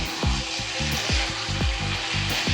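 Veg manchurian balls stir-fried in sauce over a high flame, a loud, constant sizzle broken by rhythmic scraping stirs about every third of a second, with no talk.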